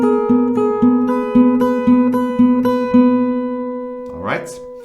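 Closing fingerpicked acoustic guitar part, a run of evenly spaced plucked notes over a sustained chord based on F, ending with a brief scrape of fingers sliding on the strings.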